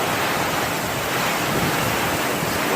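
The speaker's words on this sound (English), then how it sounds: "The wind is whipping so bad, it's actually pushing the water up through the roof." Strong wind from a severe thunderstorm squall line, a loud continuous roaring rush of wind and driven rain, steady and close to the microphone with no voices.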